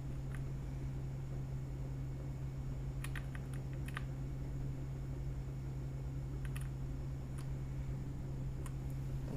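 Keys tap on a computer keyboard resting against a handmade wrist rest, with scattered clusters of soft clicks over a steady fan-like hum and background hiss.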